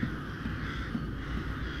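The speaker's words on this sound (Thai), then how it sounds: "อีการ้องให้ลั่นเลยเนี่ยตอนนี้มันแบบร้อง" A crow caws in the horror video game Rise of Insanity, a hoarse call heard faintly over a steady low ambient drone.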